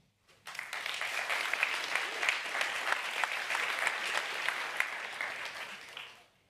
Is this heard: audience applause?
yes